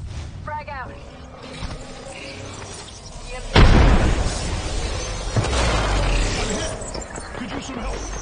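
Frag grenade detonating in the video game Apex Legends: a sudden loud boom midway, with a rumbling tail under ongoing gameplay noise and voices.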